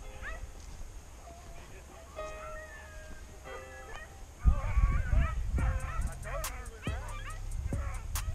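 Hunting dogs yip, whine and bark during a rabbit hunt outdoors, scattered cries at a middle distance that grow busier and louder partway through, mixed with rustling and wind.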